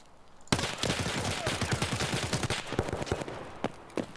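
Gunfire in Escape From Tarkov on the Customs map: a sudden loud burst of rapid automatic shots, then scattered single cracks and a final distant report, with no talk over it.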